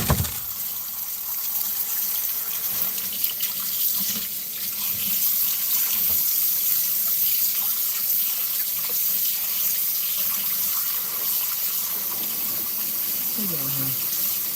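Onions rinsed under a running kitchen tap, a steady gushing stream of water into a sink that carries on for the whole stretch, close and fairly loud, with faint voices at times.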